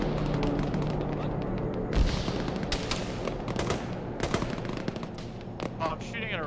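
Rapid machine-gun bursts and scattered gunshots fill a military video game firefight, loud and near, with a few heavier booms and a chaotic crackling texture over a constant background din.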